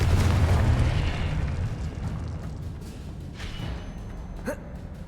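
A Confringo fire spell explodes in Hogwarts Legacy, a loud booming burst at the start that rumbles and fades away, with a sharp crack near the end and no talk.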